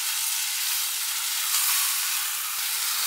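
Soaked rice stir-fried in a pot for a Korean pot-rice dish, giving a steady, close, even sizzle and hiss with no talk.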